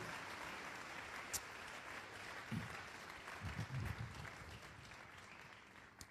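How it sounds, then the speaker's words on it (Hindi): A church congregation applauds during a sermon, a broad sustained wash of clapping hands with a few louder bursts, filling the room without pause. "ताली बजाओ प्रभु के लिए जोर से।"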